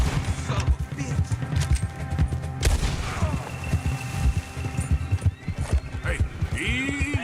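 Rapid clip-clop of horse hooves with a whinny in the Red Dead Redemption 2 game, close and continuous under overlapping voices and a sharp bang.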